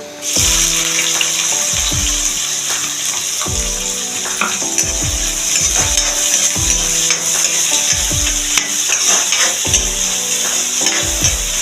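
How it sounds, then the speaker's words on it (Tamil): Sliced onions hit hot oil with crackling fennel seeds, keeping up a steady loud sizzle while a spoon stirs and knocks against the pan in a regular rhythm, close up and with no talking. "இப்போ சோம்பு நல்லா பொறிஞ்சிடுச்சு வெங்காயம் சேர்த்துக்கலாம்"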